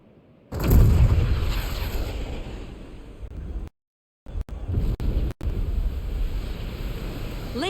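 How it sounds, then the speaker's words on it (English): The Junon cannon fires in Final Fantasy VII Rebirth: a sudden deep boom erupts and rolls off into a long rumbling wash, which drops out briefly before the roar resumes, choppy and broken. "with a single blast of Junon's famous cannon, Rufus Shinra has announced his arrival."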